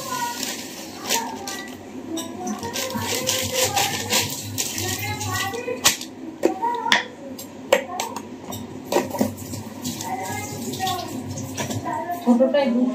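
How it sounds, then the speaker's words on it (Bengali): Tea is poured in a home kitchen with a soft liquid trickle, clinking cups and light clatter, while people talk through most of it. "এই মুহূর্তে চা যেহেতু হচ্ছে তাই চাটা ঢেলে দিচ্ছি।"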